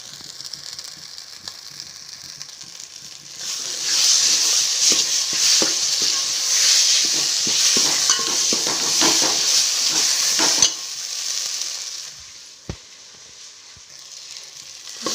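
Ground black masala roasting in hot oil for a Maharashtrian yelvani amti, a steady bright sizzle swelling louder midway with scraping stirs and occasional clicks, then easing off near the end.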